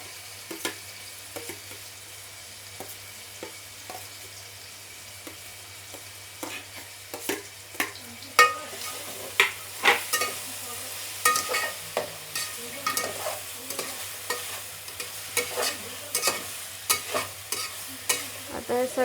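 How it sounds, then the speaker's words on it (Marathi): Tomatoes sizzle and fry in a pan for pav bhaji while a spoon stirs them, giving a steady low sizzle under repeated scraping and clacking strokes that grow busier and louder partway through, with no talking. "आता टाकते टोमॅटो. टोमॅटो पण मस्त शिजवून घ्यायला लागेल."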